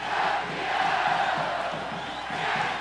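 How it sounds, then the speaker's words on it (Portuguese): Football fans roaring and chanting in the stands at Mirandão stadium during a Tocantins state championship final, a massed crowd rumble with rhythmic surges, somewhat distant and steady. "a torcida não se aguenta no estádio Mirandão, ouça o som!"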